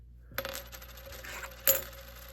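A few coins dropping and clinking onto a hard surface, two distinct bright jingles about a second apart in a quiet room.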